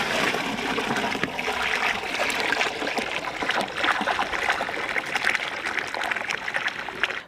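Water pours steadily into a drum being filled for an organic humic acid fertilizer mix, a continuous close splashing rush that lasts throughout.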